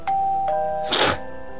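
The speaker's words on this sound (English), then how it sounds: "A doorbell." A doorbell in the Minecraft video game rings with two clear chime tones, followed by a short burst of noise, then a faint lingering tone in an otherwise quiet scene.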